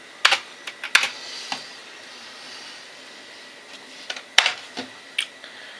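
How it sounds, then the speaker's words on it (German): Keys clatter on an old Commodore C64 keyboard connected through a USB adapter: sparse, crisp clicks in small clusters with pauses between them, close and fairly quiet, with no talk. "über die gute alte C64-Tastatur."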